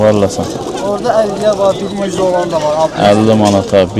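Turtle doves coo at the Sabunchu bird market, a soft cooing nearly buried beneath close, continuous talk between buyers and sellers.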